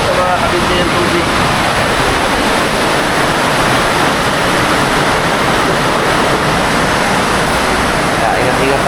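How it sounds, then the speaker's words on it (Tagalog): Heavy rain pours steadily through an overnight downpour, with floodwater rising around a flooded home; a dense, continuous hiss of rainfall and rushing water fills the scene, loud and unbroken throughout. "isang maulan na umaga"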